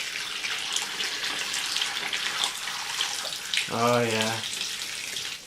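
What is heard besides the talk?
water from a tap filling a tub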